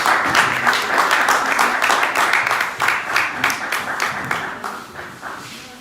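A room full of people at a Zimbabwe UK business chamber conference in London gives a sustained round of applause for a speaker, with dense, steady clapping that tapers slightly toward the end.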